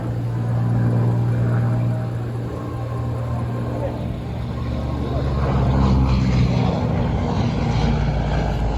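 A Corsair fighter with a Pratt & Whitney radial engine flies past at an airshow, its broad propeller drone rising and swelling over several seconds, heard at a moderate distance.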